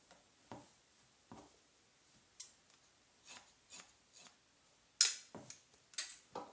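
Crisp scissor snips cutting a man's hair during a men's haircut class, a series of about ten short metallic clicks at an uneven pace, close up and with no talking.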